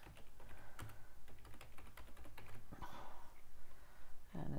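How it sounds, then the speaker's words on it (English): Typing on a computer keyboard while formatting a Word document, a steady run of close, fast key clicks that goes on for several seconds, with a few louder taps near the end and no talking. "And now I can just go and type."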